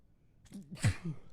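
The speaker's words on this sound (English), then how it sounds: "That sneeze snuck up on me right there." A single sudden sneeze bursts out after a short intake of breath, close and fairly loud, followed by a brief exhale.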